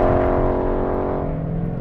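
A Ford Mustang V8 muscle car engine rumbles in a loud, steady, deep, bassy idle with a throbbing low tone, close and continuous.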